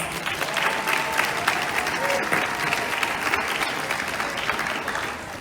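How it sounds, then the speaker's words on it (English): Festival crowd applauding volunteers at a Caribbean Days celebration in Coquitlam, a dense, steady clapping from many hands that holds strong throughout with a bright crackle and no pauses. "So please give our volunteers a big round of applause."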